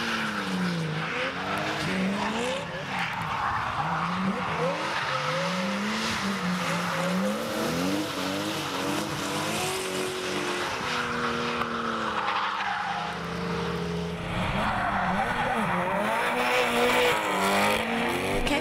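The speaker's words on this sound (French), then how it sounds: "Kevin Delay's Subaru finds itself against Zanato's Mustang in its first finals as a drifter." A Subaru and a Mustang battling in a drift final at Lédenon, engines wailing and surging through gear changes with long tire squeals, loud and continuous.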